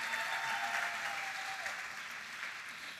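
Pageant audience at a Ms. Senior Alabama competition gives a sustained round of applause, dense and steady, slowly easing off by the end, with a faint tone sliding underneath.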